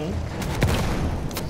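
Tank fire aimed at the player in the video game Battlefield 1: a dense roar of battle noise with a couple of sharp, heavy blasts cutting through, loud and continuous throughout.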